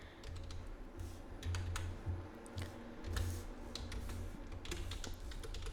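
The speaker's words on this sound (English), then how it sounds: "Say suppose I'm going to type a message here saying" Quick, steady keystrokes on a computer keyboard as a message is typed, a dense run of close clicks and taps with brief gaps, fairly quiet.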